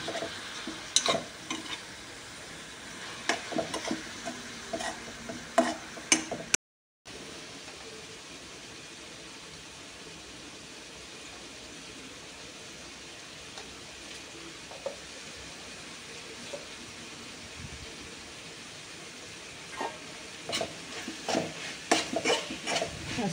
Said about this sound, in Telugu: టమాటాలు వేసేస్తున్నారు. టమాటా క్యాప్సికమ్ మగ్గిపోవాలి.